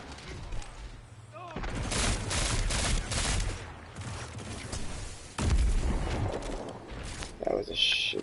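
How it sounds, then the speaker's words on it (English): Grenade blasts and bursts of gunfire in the Destiny 2 beta, dense and loud for most of the span with a sharp boom near the middle, while a player talks over the combat. "That was a shitty grenade."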